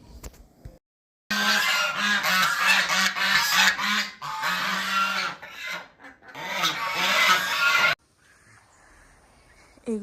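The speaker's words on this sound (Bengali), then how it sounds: "ব্রেকফাস্ট টেবিলে বসেই আমরা আওয়াজ পাচ্ছিলাম, দূরে এগিয়ে দেখলাম এখানে রাজহাঁসের প্রতিপালনও হচ্ছে" Geese honking loudly at a farm, a noisy flock calling in overlapping bursts, close and harsh, with a short pause between two long stretches of cackling.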